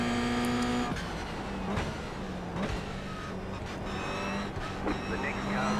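A Toyota GR86 race car accelerates hard off a green-flag race start, its engine note loud and close, rising in pitch with gear changes and surrounded by the roar of other cars.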